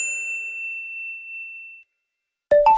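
A fading sustained tone gives way to silence, then a bright notification bell dings twice in quick, clear strikes at the end.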